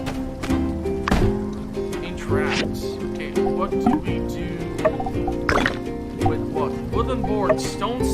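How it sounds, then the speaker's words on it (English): Chickens cluck and squawk in the game My Time at Sandrock, several bursts scattered through the stretch, mixed under someone talking and game sound effects. "let's see if I can slay some chickens in order to get the feathers"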